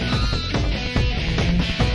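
Battle music from Shin Megami Tensei: Nocturne as heard on PS2, compressed and dull with the high end cut off, a dense, loud rhythmic loop with steady percussive hits.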